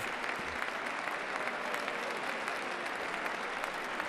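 A large audience applauds a Trump speech, a distant, steady roar of many hands clapping that stays even and continuous throughout.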